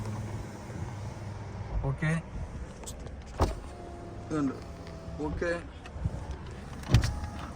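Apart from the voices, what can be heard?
Hyundai Verna electric side mirrors moving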